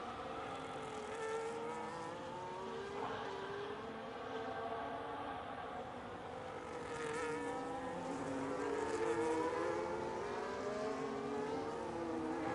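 Ferrari race cars scream around the Qatar circuit in a sim racing broadcast. Several engines whine and shift at once, their pitch sweeping up and down as they pass at a steady, moderate distance.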